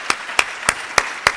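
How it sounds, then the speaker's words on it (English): Five sharp, evenly spaced claps at a luncheon honoring Melissa, crisp single hand claps a little over a quarter second apart, fairly close and alone. "Let's give a round of applause for Melissa."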